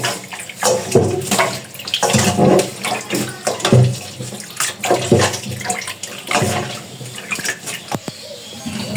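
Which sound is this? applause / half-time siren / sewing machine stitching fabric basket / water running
water running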